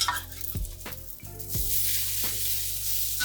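Chow mein noodles frying in oil in a wok with a few scrapes and knocks of a spatula, then a rising steady sizzle that grows louder and fills the sound, close and alone.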